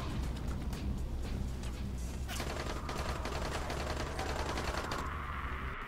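Rapid, sustained bursts of a mounted turret machine gun in the zombie game Dying Light, a dense rattling stream of shots that runs unbroken from start to finish at steady volume.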